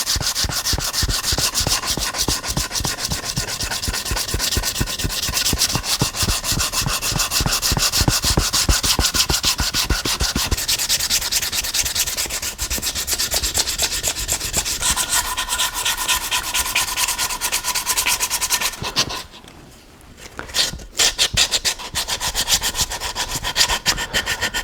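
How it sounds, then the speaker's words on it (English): A wooden guitar body and neck are hand sanded with the grain, producing fast, rhythmic back-and-forth rasping strokes that run steadily and close, briefly pausing near the end before resuming. "One of the reasons we sand with the grain is to hide sanding scratches so that they appear to look like the grain."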